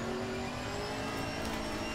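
GT4 race car engine in Assetto Corsa Competizione, a steady loud drone with high whine throughout, constant under no speech.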